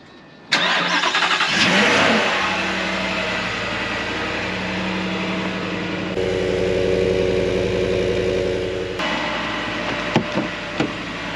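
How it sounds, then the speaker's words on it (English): A 2021–23 Ford F-150 with a Whipple supercharger cold-starts on a 25-degree day: a loud crank catches and flares, then settles into a steady, close, rumbling idle with a slight change in pitch partway through, with no talk. "let's do a quick cold start"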